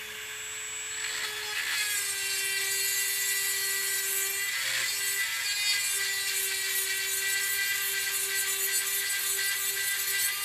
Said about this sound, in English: We'll try the Dremel on the steel.